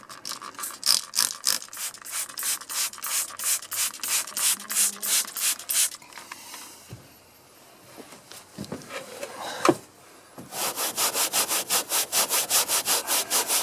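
A small brush scrubs the fabric of a car interior around the headliner, giving quick, steady back-and-forth strokes up close. The strokes pause partway through, with a few soft knocks, then pick up again just as fast.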